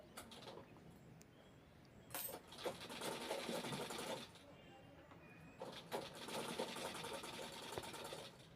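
Sewing machine stitching a cloth circle for a plate cover, two sustained whirring runs with brief pauses between, faint and close, with a quiet background of other sounds.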